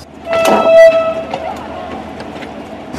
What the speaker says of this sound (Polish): Specjalnie na tę okazję o północy ruszyła ciuchcia do Bolina.